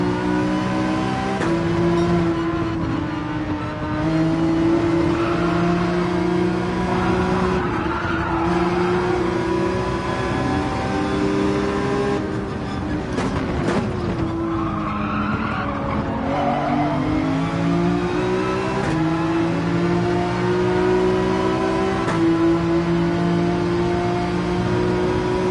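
Race car engine in Gran Turismo 7 on a drag strip, a loud continuous roar with shifting revs and tire squeal throughout, rising and falling pitch as gears change, with no talk over it.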